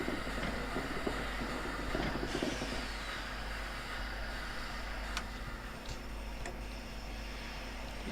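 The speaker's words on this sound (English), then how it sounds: "that was the AWS" Warning tone of the AWS train system in a Train Sim game on the Crickfield to Shencliffe route with the Flying Scotsman, a faint sustained tone over a low rumbling cab hum with a few sharp clicks, no voices.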